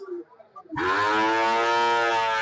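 A native-breed cow at a cattle market lets out one loud, long, sustained moo close by after a moment of quiet background murmur.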